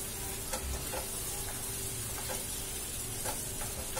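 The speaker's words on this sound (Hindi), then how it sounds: "प्याज को हम बिल्कुल ब्राउन होने तक नहीं पकाएंगे, हल्का ही पकाएंगे।" Medium-sized onions and garlic cloves fry lightly in a hot pan at home, a steady broad sizzle with faint crackles and occasional soft stirring scrapes, heard alone at a moderate level.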